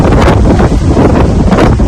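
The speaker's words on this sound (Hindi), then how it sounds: "जैसे आप देख सकते हैं बहुत हवा चल रही है अभी" Strong wind buffets the microphone on a hostel rooftop, a loud continuous roaring rush with gusting surges throughout and no other clear sound.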